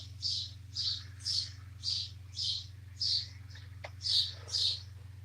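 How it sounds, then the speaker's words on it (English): Repeated high chirps from birds outdoors, about two per second in a steady rhythm, clear over a low constant hum. "I imagine you probably hear the birds good over here."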